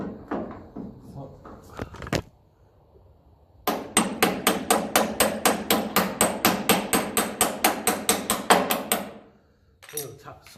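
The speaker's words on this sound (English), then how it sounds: "I'm going to tap a screwdriver in there, or maybe this extension, and that should hold it." Rapid metallic hammer-like taps drive a screwdriver or socket extension into a part of a 1954 Ferguson 20 TEF diesel tractor, about twenty close, evenly spaced loud strikes in a steady burst, preceded by brief clanks and handling noise.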